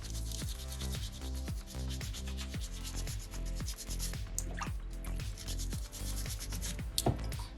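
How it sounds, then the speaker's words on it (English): Sandpaper rubbing against a small soapstone shark carving in steady, rhythmic back-and-forth strokes, close and fairly quiet with no talking. "I'm going to flip my sandpaper around and use the opposite corner"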